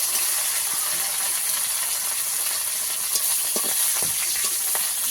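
Golden fish and chopped pieces frying in oil, a dense close hiss of bubbling fat with occasional faint clicks and scrapes of a utensil, steady and loud throughout.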